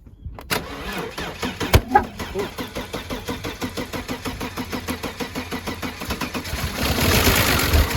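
A Saab 900 or Subaru BRAT engine cranks on brake cleaner with a rapid rhythmic churning, catches, and builds to a louder rough running roar near the end.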